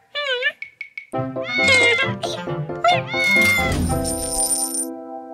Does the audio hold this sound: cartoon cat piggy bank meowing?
yes